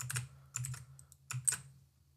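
Typing on a computer keyboard while writing MATLAB code, heard as a few short bursts of clicking keystrokes with brief pauses between them, close and fairly quiet, with no talking.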